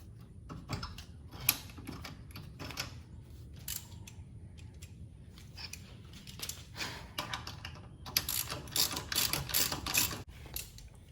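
A lug wrench loosens a lug nut while a spare tire is changed, giving irregular ratcheting clicks and metallic scraping and clunks, close and moderately loud, with a busier burst near the end and no speech.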